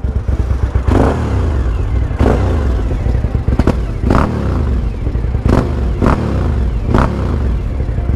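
A Suzuki TL1000R 1000cc V-twin motorcycle revving close by at idle, throttle blipped in six or seven sharp bursts that rise and fall between a lumpy, throbbing idle.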